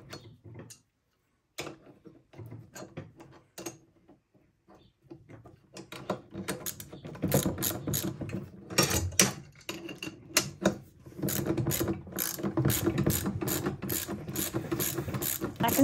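Nuts are tightened on a fairground high striker build with a ratchet. Sparse clicks and handling sounds at first give way to fast, close, repeated ratcheting bursts.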